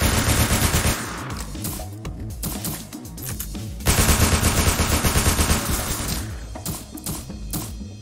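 Enemy gunfire in the Roblox game Entry Point: dense, loud bursts of automatic shots rattle almost without pause, briefly thinning before another heavy volley, with no voices.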